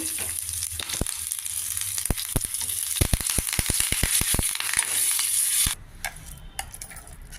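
Asafoetida and curry leaves tempering in hot oil for a tomato-coconut chutney, giving a close, dense sizzle with many sharp crackling pops that suddenly drops to a quieter background near the end.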